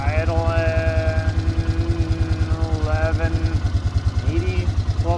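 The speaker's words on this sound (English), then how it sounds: "idling" A Polaris Ranger 500 EFI utility vehicle engine idles close by with a steady, rapid pulsing rhythm and a slight stumbling misfire, while a voice talks over it.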